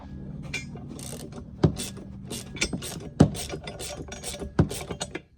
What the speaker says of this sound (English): Hold one side and ratchet the other.